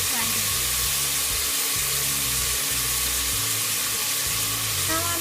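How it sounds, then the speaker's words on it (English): Potatoes and beans for Nepali alu bodi fry in hot oil in a pan, giving a steady, loud, close sizzle that runs unbroken throughout, with faint utensil clinks now and then. "Now I'm going to fry it."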